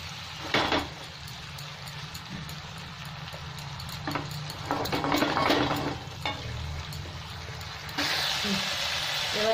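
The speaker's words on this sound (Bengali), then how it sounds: "এবার আমি পনিরটা একটু ভালো করে ভেজে নেব।" Paneer cubes frying in a hot pan, a steady soft sizzle with occasional stirring scrapes and utensil clatter, close by, with faint voice sounds at times.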